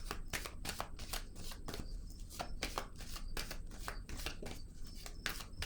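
A deck of tarot cards is shuffled by hand, a steady run of fast, crisp riffling snaps and flutters continuing without pause, close up and moderately loud.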